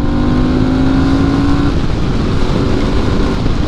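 A Fantic Caballero 700 twin-cylinder motorcycle engine revs hard and climbs in pitch, then a dense roaring drone as it accelerates, close and continuous.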